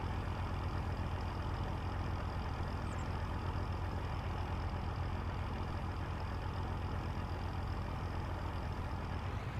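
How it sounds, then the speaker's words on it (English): A tractor engine idling as it warms up in the Farming Simulator video game, a steady, even low drone that holds unchanged throughout, moderately quiet and alone. "I'll wait for the tractor to warm up."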